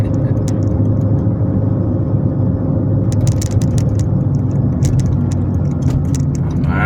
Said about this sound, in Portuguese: Carro camuflado.